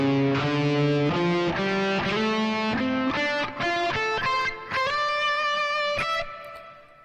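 An electric guitar plays a solo run slowly, a sequence of distinct sustained single notes stepping upward with slides, clear and alone with a slight overdrive.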